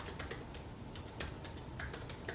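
Laptop keyboard keys tapped in an uneven burst of clicks, close and fairly quiet over a steady background hiss, with no one speaking.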